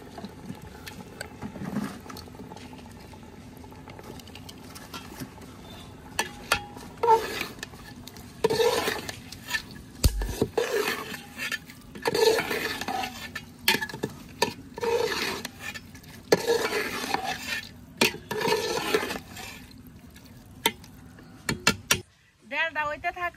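Meat being sautéed and stirred in a pot for a village-style khichuri, with repeated scraping stir strokes and a light sizzle running steadily throughout, plus occasional clinks of utensils on the pot.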